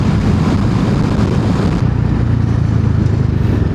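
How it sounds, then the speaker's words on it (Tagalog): A motorcycle engine drones loudly under heavy wind buffeting, the roar easing slightly partway through while the engine note continues steadily. "Nahirapan yung motor natin."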